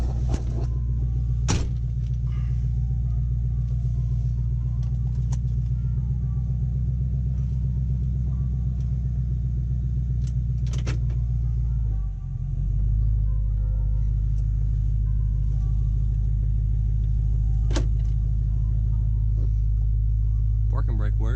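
A Ford Crown Victoria V8 idles steadily after a belt replacement, a loud continuous low rumble with a brief dip midway and a few faint clicks on top.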